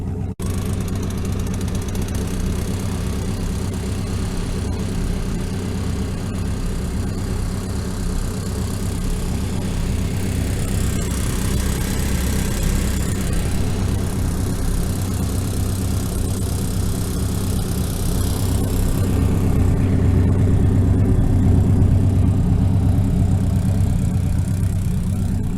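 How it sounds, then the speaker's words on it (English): A Linn tractor engine idling outdoors on a chilly day, a continuous low, rumbling chug that stays loud and close throughout, swelling slightly near the end. "think we're going to turn the Linn Tractor around first before we hook everything up"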